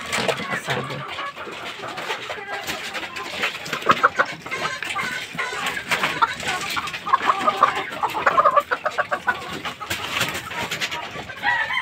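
White Kelso gamefowl hens clucking and chattering in a busy yard, with overlapping bird calls throughout and someone talking over them.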